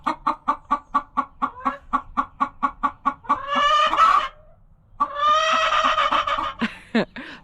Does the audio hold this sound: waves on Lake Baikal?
no